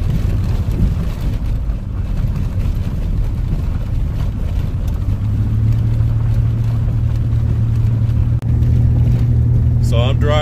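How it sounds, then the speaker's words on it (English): Car driving on a desert road, Mitchell Mine Road, with a steady engine and road rumble plus wind buffeting across the whole stretch, a tone rising midway, and no talk. "So I'm driving Mitchell Mine Road right now."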